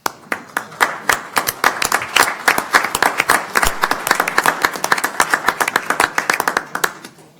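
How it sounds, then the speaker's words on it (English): A crowd at a county commissioners court meeting applauds young people with sustained, dense clapping from many hands. The clapping is loud and close and fades out at the end. "One more applause for these great young people here."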